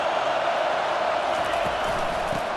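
Crowd noise fills a football stadium during a scrimmage at USC, a steady broad roar holding for the whole stretch with no single standout burst.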